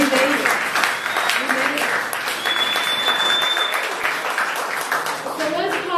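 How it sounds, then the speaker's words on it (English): Meeting attendees give themselves a round of applause, dense and sustained clapping that stays loud, with voices and a faint tone mixed in. "So give yourselves a round of applause."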